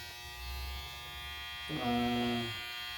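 An electric hair clipper switches on partway through a young man's haircut, a steady close buzz with a strong hum that holds to the end after a quieter stretch of low background noise.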